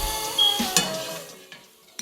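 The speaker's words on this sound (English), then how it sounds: "Then stir them for a few seconds." Star anise, a cinnamon stick and a dried chilli are stirred briefly in hot oil in a pan, with a light sizzle and a few sharp utensil clinks that fade out.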